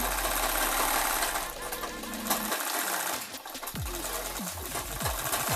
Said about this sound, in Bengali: আর এইখানে আমি সেলাই করে নিচ্ছি